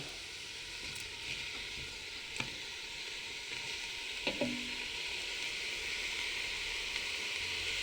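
Pork frying in a hot pan with chili and lemongrass tossed in, giving a steady close sizzle and hiss with a few sharp scraping stirs and clinks throughout.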